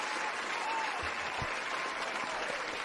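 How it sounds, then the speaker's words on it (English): Steady applause from many hands fills the moment in honor of Dallas Mavericks player Dwight Powell, an even, continuous clatter with no voices over it. "Clap it up for Dwight Powell, Dwight Pizzle Powell."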